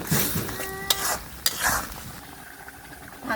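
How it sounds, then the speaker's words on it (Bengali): Turmeric, chili and coriander are stirred and fried in a pan as the base for a beef and jackfruit curry. A soft sizzle runs under several scraping strokes and two sharp clicks of a spoon against the pan. "হলুদ, মরিচ, ধনিয়া, সবগুলো মশলা কিন্তু এখন সুন্দরভাবে কষাই নেব।"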